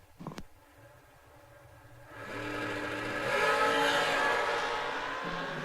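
A drag racing car, an S&W Dragster, launches at a drag strip, rising from a quiet start into a loud, sustained engine roar that climbs in pitch and holds, with a brief sharp pop at the beginning.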